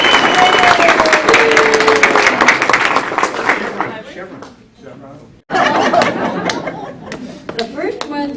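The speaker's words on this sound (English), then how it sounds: "we should all give Lee Lieberg a big round of applause" A breakfast-meeting audience breaks into a loud, dense round of applause with chuckles and chatter mixed in, fading briefly before a second burst of clapping rises again near the end.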